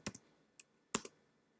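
A few sharp keystrokes on a computer keyboard, typed while entering a command in RStudio on Windows: a quick double tap, a lone soft click, then another close pair of taps, fairly quiet and with no talk.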